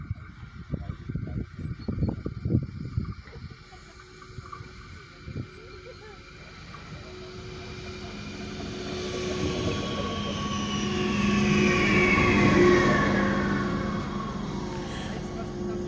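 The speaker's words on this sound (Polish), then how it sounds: "Wjeżdża pociąg UBB relacji Zinnowic-Peenemünde." A UBB passenger train on the Zinnowitz–Peenemünde line rolls into a station with a rising low rumble and a long squealing brake whine, building to a loud peak near the end, with clattering bursts at the start.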